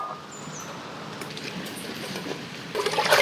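Fish being washed in water outdoors during a forest cooking session, with faint splashing that swells into louder sloshing and pouring near the end.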